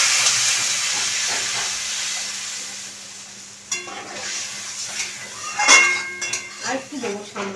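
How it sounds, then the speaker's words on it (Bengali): Water poured into a hot pan of fried hilsa and katla fish curry with taro sets off a steamy hiss and sizzle, with clinks of a utensil against the pot in a home kitchen, fairly close. "দেখো তেল ছেড়ে দিয়েছে, এবার আমি জল দিয়ে দেবো, পরিমাণ মতো জল দিয়ে দেবো।"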